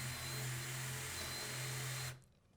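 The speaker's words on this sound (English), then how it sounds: "we would get this power drill. So the battery is powering a motor in here, which then turns the drill." A battery-powered handheld power drill whirs at a steady, loud pitch for about two seconds, then cuts off abruptly and winds down to near silence.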